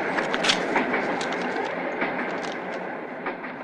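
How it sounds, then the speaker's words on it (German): A train pulls away in a continuous, fairly loud rumbling roar with faint clattering wheels and scattered clicks, heard alone without voices. "Entschuldigung, der Zug fährt ab."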